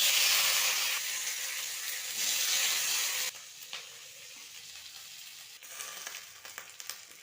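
Garlic, onion, capsicum and tomato hit a hot pan for chilli jackfruit with a loud, bright sizzle that abruptly drops to a softer hiss, broken by occasional clicks of stirring.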